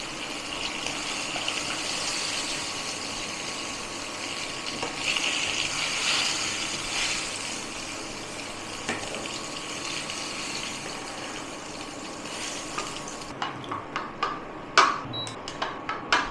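Pieces of rohu fish fry in hot oil in a pan, a steady loud sizzling hiss, followed near the end by several clinks and taps as the fish is turned.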